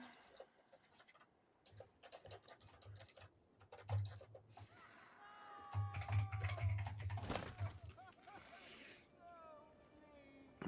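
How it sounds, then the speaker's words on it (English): A very loud computer keyboard clatters in quick bursts of close keystrokes, with birdlike chirps and people chatting over it. "My super loud keyboard to type with."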